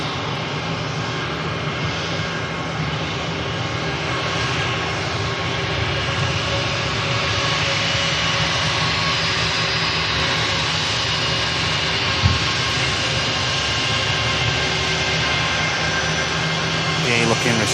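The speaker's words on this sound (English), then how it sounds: "Next aircraft in from Rovaniemi is a MAX 8 of TUI Airways, flight 2183, in from Finland." A TUI Airways Boeing 737 MAX 8 arrives at Manchester from Rovaniemi, its steady jet engine roar sustained and fairly loud, with tonal whine layered over broadband rumble and one brief thump near the end.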